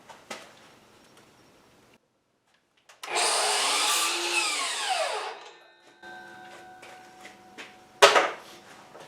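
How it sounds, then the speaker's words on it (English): A power tool, likely a saw, cuts a 30-degree end on a wooden board for a chicken coop nesting box lid, running loud and steady for about two seconds before winding down, with small knocks and a sharp clatter after. "I'm going to put a 30-degree end on this"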